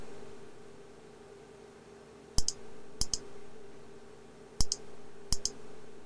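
A mouse clicks during a Missile Command game on a classic Macintosh. Sharp, close clicks arrive in quick pairs, four groups in all, over a faint steady hum.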